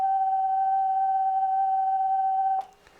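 Steady CW tone from an Arduino-controlled 630 meter ham radio transmitter, a clear continuous sine-like note with a slight waver, holding for about two and a half seconds before cutting off abruptly.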